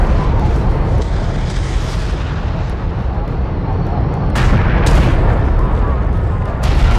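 Gunfire pounding a carrier in the Homeworld: Deserts of Kharak game, a continuous heavy rumble of artillery-like bursts with sharp explosive cracks near the end, under intermittent radio-style voice alerts.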